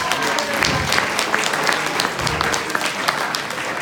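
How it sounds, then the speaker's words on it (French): An audience at a hypnosis show claps loudly and steadily, a dense wash of applause with a few individual claps standing out throughout. "on l'applaudit très fort"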